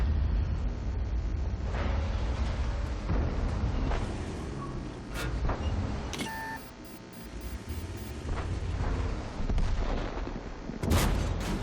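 Tank guns in World of Tanks boom repeatedly over a constant engine rumble during an M103 heavy tank battle. Several sharp, loud shots land irregularly, along with brief electronic beeps and no talk.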